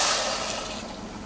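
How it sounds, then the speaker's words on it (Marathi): Hot water poured into a pan of rice with garlic makes a brief, loud rushing pour that fades over about a second, heard close and alone. "आता यामध्ये घालूया गरम केलेलं पाणी"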